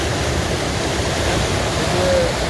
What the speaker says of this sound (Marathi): ही विदारक अशा स्वरूपाचं हे पाणी आणि हे सगळं रौद्र स्वरूपाचं हे पाणी